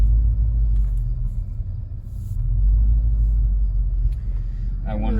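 An old truck engine idles near the listener with a deep, steady rumble that rises and sags a little in speed. A brief voice comes in near the end.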